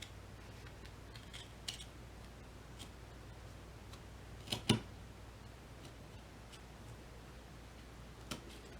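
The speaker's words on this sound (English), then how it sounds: "nice even cuts. Make sure you don't cut your fabric underneath." Scissors snip through plush fabric with a few quiet, sparse clicks, one sharper cluster of cuts near the middle, in an otherwise hushed room.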